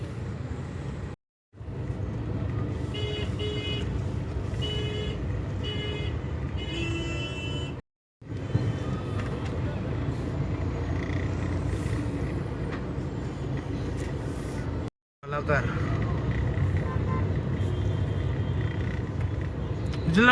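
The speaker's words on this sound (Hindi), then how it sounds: "20 मिनट हो गया ट्रैफिक में फंसे।" Stuck road traffic near a toll with many trucks, heard from inside a car: a steady low rumble of idling and crawling vehicles with faint distant honks, interrupted by a few brief cuts.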